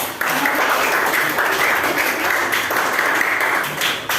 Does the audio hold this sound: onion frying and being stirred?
no